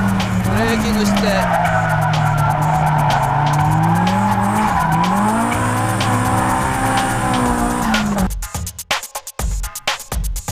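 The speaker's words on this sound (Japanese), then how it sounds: "This is where he slams on the brakes, then swings the car around to shift the weight of the car to the rear." A race car performing a braking drift produces a loud, sustained tire squeal over a rising and falling engine note for about eight seconds, then cuts to choppier engine and road noise, with talk faintly underneath.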